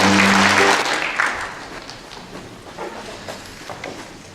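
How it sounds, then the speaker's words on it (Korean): Audience applause at a literary award ceremony, loud and sustained at first, then tapering off into scattered claps and murmuring from the hall. "다시 한번 큰 축하의 박수로 부탁드리겠습니다."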